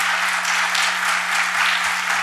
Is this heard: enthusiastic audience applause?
yes